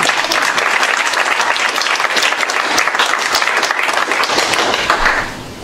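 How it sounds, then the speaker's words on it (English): A live audience at a youth entrepreneurship event claps in sustained, dense applause for a young speaker, loud and steady throughout before tapering off at the very end. "So if we could give her a round of applause."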